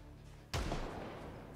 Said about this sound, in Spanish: ¿y ese disparo?